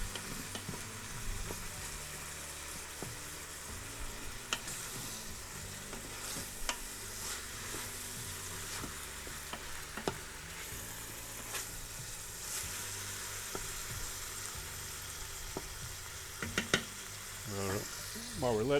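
Ground meat sizzles steadily as it browns in an Instant Pot while being broken up for cheeseburger pasta, with scraping and stirring clicks running through and a faint voice talking now and then.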